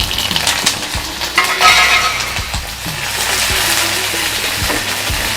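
Onions and tamarind frying in hot oil on high heat, crackling and sizzling steadily with sharp pops scattered throughout, close and fairly loud, with clinks of stirring.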